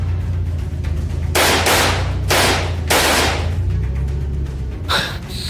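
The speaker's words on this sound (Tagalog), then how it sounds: "Kasunod ng muling pagpapaputok nito ng baril." Gunshots fired repeatedly, three loud close blasts in quick succession, each ringing out with a long tail, followed by a fainter sharp burst near the end over a low steady hum.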